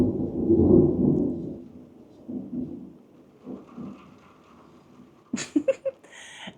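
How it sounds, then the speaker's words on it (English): Heavy rain and thunder from a thunderstorm heard from beside a window, with a deep rumbling roll early that fades into steady downpour, followed by a few sharp, brighter cracks near the end. "It's really coming down. I'm like right by the window because I want to watch the lightning"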